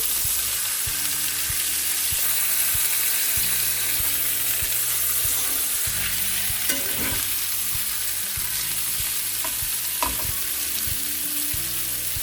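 Salisbury steak patties sizzle steadily in gravy in a pan, a constant close frying hiss with soft scraping thumps as they are turned partway through.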